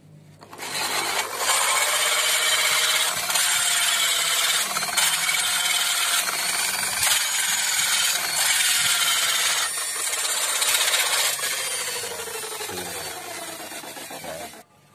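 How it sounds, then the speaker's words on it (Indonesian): A grinder cuts through a 6 cm PVC pipe, a loud continuous abrasive whine and rasp that holds steady for most of the stretch, then eases and fades toward the end. No one speaks. "Ini yang 6 cm ya, di gerinda."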